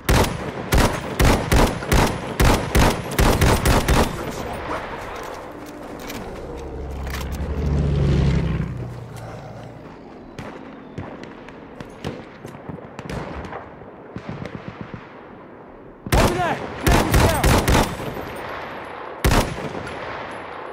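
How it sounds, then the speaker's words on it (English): Enemy machine gun fire in Battlefield 1: loud rapid bursts of automatic gunfire, a long rattling volley at the start, scattered shots and a low rumbling blast mid-way, then further fast bursts near the end. "enemy machine gun over there!"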